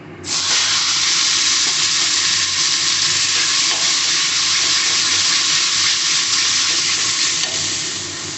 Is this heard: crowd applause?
no